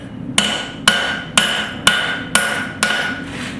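A hammer strikes a knife blade being forged from scrap metal six times at an even, steady pace, each blow sharp and ringing, close up with no talking.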